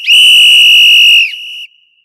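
A single loud, shrill whistle blast used as a segment sound effect holds steady for over a second, then drops to a quieter tail before cutting off abruptly into silence.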